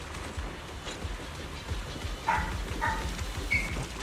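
A dog barks and yips a few times in short, fairly faint bursts amid steady background noise from a game, with no talk in between.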